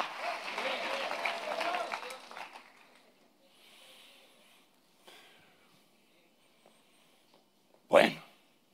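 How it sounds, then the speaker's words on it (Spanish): A church congregation applauds loudly for a couple of seconds during a sermon, then the clapping fades into near silence with faint murmurs and one loud thump near the end. "Dale un aplauso muy fuerte a Dios si lo crees."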